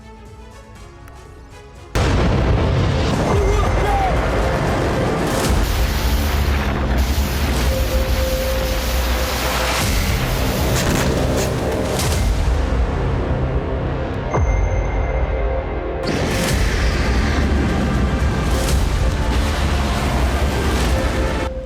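Heavy artillery bombardment with continuous loud blasts and booming explosions, a dense wall of sound that begins abruptly and rolls on without pause, briefly easing near the end before resuming.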